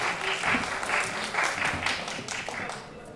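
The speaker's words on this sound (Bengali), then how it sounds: "আমরা সকলে জোরে হাততালি দিয়ে সবাইকে অভিনন্দন জানাই" An audience at a debate competition awards ceremony claps loudly to congratulate the winning teams, a continuous burst of applause with voices mixed in, fading slightly toward the end.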